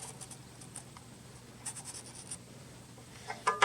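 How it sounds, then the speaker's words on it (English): A Sharpie marker traced around the edge of a knife blank to mark a cutting line, soft squeaky strokes in short bursts, close and quiet. "just go around the edge and just mark where I need to cut"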